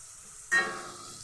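Ground cumin, chili powder and sweet paprika hit a hot pan with a sudden loud sizzle, then keep frying steadily in the spice masala for a Bengali chicken curry.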